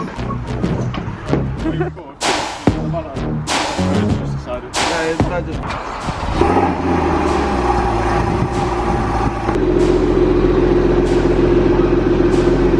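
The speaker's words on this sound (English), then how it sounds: "So yo guys, in the new car now." A Porsche Cayman 981 GTS idles and pulls away, its engine settling into a steady, close drone after sharp knocks and door or cabin sounds, while a person talks over the start.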